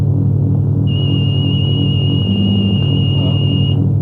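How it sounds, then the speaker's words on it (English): A steady high-pitched electronic beep from a walk-through metal detector arch sounds continuously for about three seconds over a constant low hum of machinery, cutting off abruptly. "the metal detecting arch behind me picked up the amount of metal that I'm carrying"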